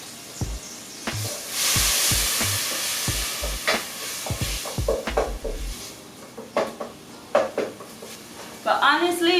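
Oil marinade with herbs, green onions and seaweed sizzles loudly in a frying pan for a vegan jackfruit alfredo, with repeated clanks and scrapes of a utensil stirring against the pan throughout.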